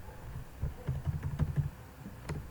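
Someone types a word on a computer keyboard while working in an Excel spreadsheet, producing a quick, quiet run of close key clicks followed by one last separate keystroke.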